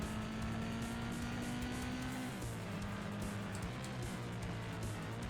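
Racing car engine from the video game TNN Motorsports Hardcore TR on the Louisiana arcade track: a steady, loud, continuous engine drone whose pitch steps down partway through, with no talking.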